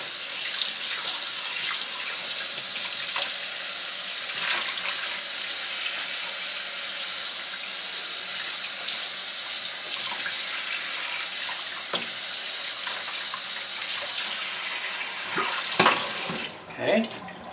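Very hot, not boiling, water runs steadily from a tap for a long stretch, a constant hissing splash with occasional clinks, ending with a few louder knocks as the flow stops.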